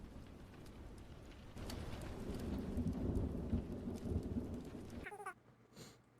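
Rain hisses steadily as background ambience while low thunder rumbles and swells, then cuts off abruptly into near quiet with faint scattered sounds.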